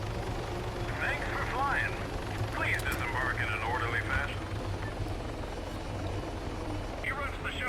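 A helicopter in the video game Arma 3 drones loudly and steadily throughout, its low rotor thrum constant while someone talks over it.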